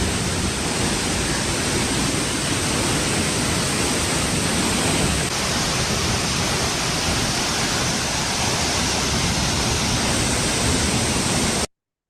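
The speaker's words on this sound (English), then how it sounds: "that's the Lake Taktevi waterfall" Waterfall in a gorge in old Tbilisi, a steady, loud, close roar of falling water that continues unbroken throughout and cuts off abruptly at the end.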